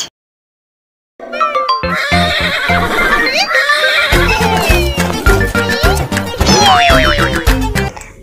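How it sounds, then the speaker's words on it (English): A horse neighs loudly and shrilly over a bouncy children's alphabet song, with music, boing effects and rhythmic clip-clop beats throughout. "H for horse"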